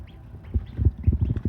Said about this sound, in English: The duckies are here. They are rocking and rolling.